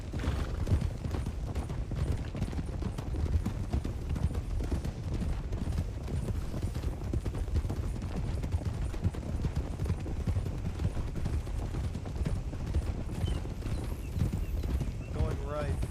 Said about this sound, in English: We're picking up to a canter.